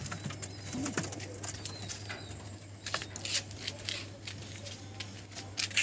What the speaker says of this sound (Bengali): এ হচ্ছে মুশকি নর পায়রা